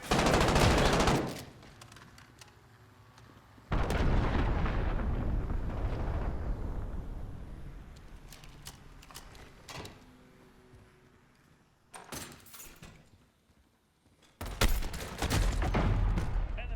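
Loud automatic gunfire and explosions in multiplayer Call of Duty: Modern Warfare on PC, coming in heavy bursts separated by quieter stretches, with distant shots and faint game callouts in between.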